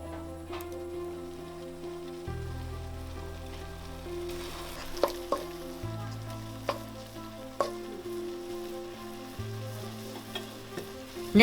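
Beef and roselle leaves cook in a pan with a steady close sizzle, scattered pops and occasional stirring clicks, over a low continuous hum that shifts in pitch.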